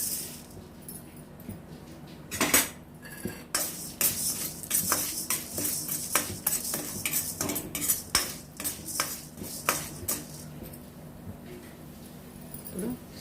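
Urad dal frying and being stirred in a pan, with a metal spoon scraping and clinking repeatedly against the pan over a steady background sizzle, up close.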